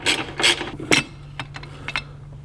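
A ratchet clicks as it loosens the 10 mm nut on the factory battery J-hook of a 2019 Toyota Tacoma, with a few loud strokes followed by lighter, quicker clicks close up.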